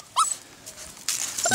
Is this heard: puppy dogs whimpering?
yes